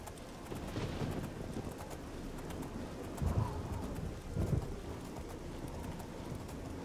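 Horse hooves in Oblivion, a faint, steady clip-clop of galloping with a couple of heavier thumps midway, set under soft outdoor ambience with bird chirps.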